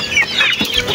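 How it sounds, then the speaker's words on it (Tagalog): Chickens clucking close by on a backyard poultry setup, several short, bright clucks in quick succession with no voices over them. "Ginugulo ako ng manok"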